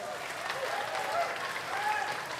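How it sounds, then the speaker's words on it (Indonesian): Audience applause for three regent candidates at an open debate in Bangli, a steady clatter of many hands clapping in a hall, with a voice speaking over it. "kita memberikan aplaus untuk ketiga calon bupati"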